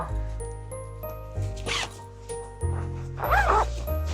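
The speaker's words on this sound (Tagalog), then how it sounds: "Zipper." A zipper on a bag or garment rips open in several short, close strokes, interrupted by soft dog yips and whimpers with background hum.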